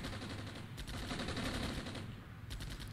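Gunfire in the Armored Brigade tank war game, dense bursts of machine-gun fire and shots rattling almost without pause over a rumbling battle din, loud and continuous, no talking.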